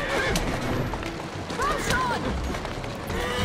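A horse whinnies with a rising, wavering cry amid busy game noise and low rumbling, with people talking over it, in the video game Assassin's Creed Syndicate: Jack the Ripper.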